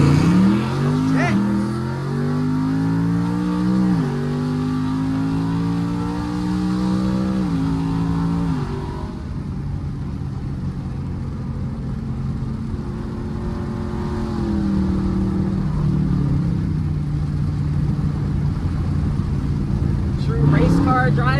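A 2018 Ford Mustang 5.0 accelerating hard, its engine rising through several gear pulls with shifts between, then settling into a lower steady drone before revving again, heard close and loud under occasional voices.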